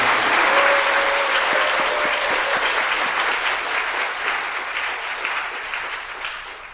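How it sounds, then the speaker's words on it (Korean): Wedding guests at a church ceremony applaud the newly declared couple, a dense burst of clapping loud at first and gradually thinning and fading toward the end. "이때 박수가 나와야 됩니다"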